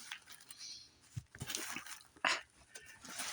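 A puppy whimpers in a few short, high, uneven bursts indoors, near and fairly soft, with light rustling and handling noises between them.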